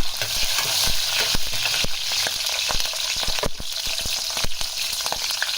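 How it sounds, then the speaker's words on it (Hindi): Cumin seeds, chopped green chillies and dried red chillies fry in oil over a slow flame, a loud, close crackling sizzle broken by frequent rapid spoon stirs and scrapes, with no voices. "स्लो फ्लेम पे हम इसको फ्राई करते जाएंगे।"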